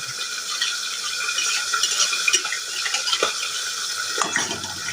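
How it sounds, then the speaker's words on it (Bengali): Nigella seeds frying in hot mustard oil in a wok give a steady, close, fine-grained sizzle with small crackles and a few sharper pops, running continuously with no talk. "কড়াইতে আমার কালো জিরেটা বেশ ভালো করে দেখো গরম হয়ে গেছে"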